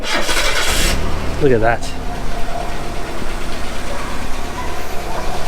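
Mazda 929 engine turning over and catching on the key, then settling into a rough, steady idle close by, with someone talking over it.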